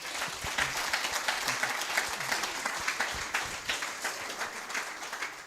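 A workshop audience claps for Sia in sustained, even applause that holds at a moderate level without a break for several seconds.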